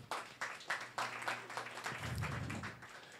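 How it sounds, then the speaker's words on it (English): An audience at a startup pitch event claps for the presenters, a ragged scatter of close claps joined by a low murmur of voices. "so round of applause for you guys."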